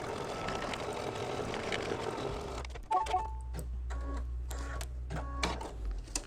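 Sewing machine tacking down a piece on a mug rug, a quiet busy whir for a few seconds, then a slower run of separate mechanical clicks and short bursts of stitching.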